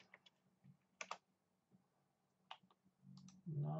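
Typing a website address on a computer keyboard: scattered clusters of crisp key clicks at an irregular pace, close and fairly quiet, with a louder thump at the end.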